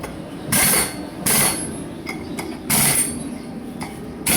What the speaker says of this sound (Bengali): লাটগুলো টাইট করে দিচ্ছি মেশিন দিয়ে